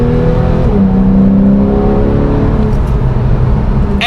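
A Porsche 911 with a PDK gearbox accelerates hard from inside the cabin, the engine drone climbing in pitch, then dropping sharply as a gear change snaps through, loud and steady.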